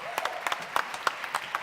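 An audience at a startup investor pitch event on stage gives a short, faint round of scattered claps, individual hand strikes audible in an uneven rhythm.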